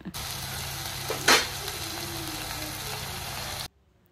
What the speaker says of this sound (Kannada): ಟೊಮ್ಯಾಟೊ ಚೆನ್ನಾಗಿ ಇದನ್ನು ಫ್ರೈ ಮಾಡ್ಕೊಳ್ಳಿ